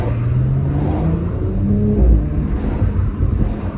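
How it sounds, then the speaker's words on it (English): A 2018 Audi RS5 2.9 V6 TFSI exhaust rumbles up close with a steady throaty drone, crackling with burbles and pops as the engine revs. "You get loads of burbles and pops there."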